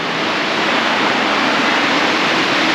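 The waterfall at Lanternman's Mill on Mill Creek in Mill Creek Metro Park roars as a loud, steady, unbroken rush of falling water with no pauses or voices.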